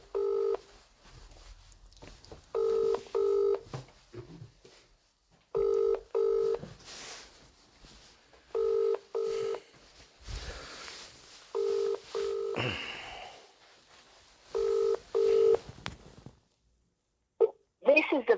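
An outgoing mobile phone call: a run of DTMF dialing tones, then repeated paired ringback tones sounding at a steady rhythm, with brief bits of voice between them.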